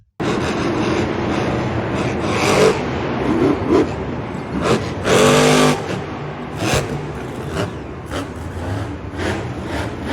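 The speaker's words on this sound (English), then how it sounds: "Monster truck." A monster truck engine rumbles steadily and loudly throughout, with several revving surges and swells, close and alone with no talking.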